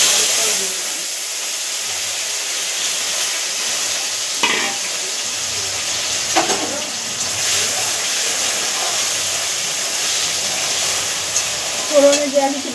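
Whole spices such as cardamom frying for tempering in an overheated kadai, giving a continuous steady sizzle and hiss with occasional stirring scrapes and small pops.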